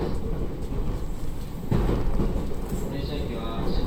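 A Narita Line train bound for Abiko, heard from inside as a steady low rumble of running wheels and motor with rattling swells, alongside announcement speech.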